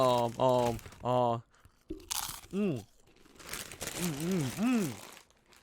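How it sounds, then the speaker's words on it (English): A bag of Doritos crinkles and crunches in short bursts between stretches of voiced, melodic sounds, close and fairly loud. "I also got a bag of Doritos. You hear this?"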